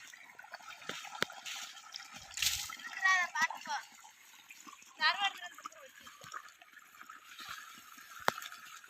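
Irrigation water pumped by a motor runs through a sugarcane field, a steady close rush with splashes near the middle, alongside brief voices.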